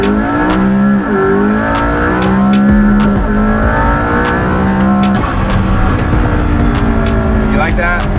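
McLaren P1 hypercar accelerating hard on the road with loud rising engine revs, gear-shift dips and whooshing blow-off valve releases, while people talk over it inside the car.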